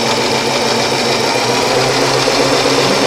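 A sewing machine stitches fabric while someone works on straight seams, giving one continuous, loud, close mechanical hum and rattle with no pauses.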